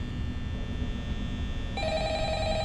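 An old-style telephone bell starts ringing partway through in the Five Nights at Freddy's video game, a steady buzzing trill that enters abruptly over a low humming background.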